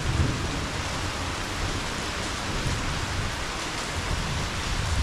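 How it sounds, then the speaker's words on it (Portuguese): Heavy rain pours down steadily at an abandoned school, a dense, even hiss with a low rumbling undertone and no voices. "Uma chuva enorme aqui"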